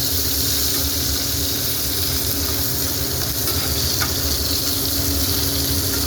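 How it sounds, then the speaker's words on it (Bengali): Chopped onions fry and get stirred in a pan for a spicy Bengali Tangra fish curry, giving a loud, steady, dense sizzle that runs unbroken throughout with no talking. "পেঁয়াজটাকে হালকা করে নাড়াচাড়া করে একটু ভাজা ভাজা করে নেব।"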